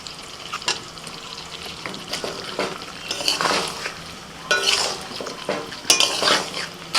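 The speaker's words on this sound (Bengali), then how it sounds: "মাংসটা কষানো হয়ে গেছে ভাজা আলুগুলো এবার দিয়ে দিচ্ছি" Fried potatoes tip into mutton curry sizzling in a pan, with loud frying hiss, stirring scrapes and metallic clinks of a spoon against the pan, bursts rising and falling over seven seconds, no talking.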